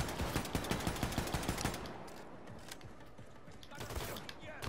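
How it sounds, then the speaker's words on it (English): Rapid bursts of automatic shotgun-turret fire in Wolfenstein II: The New Colossus, loud repeated blasts in a steady rhythm for the first two seconds, then scattered further shots amid game noise. "It's like a shotgun turret."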